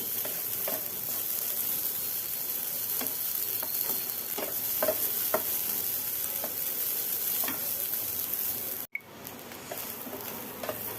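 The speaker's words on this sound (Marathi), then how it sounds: "अगोदर ह्याला एक दोन मिनटं छान परतून घेऊया तुपावरती" Grated fresh coconut sautéed in ghee, a steady close sizzle with soft rhythmic stirring scrapes, broken by a brief sharp cut near the end before the sizzle resumes.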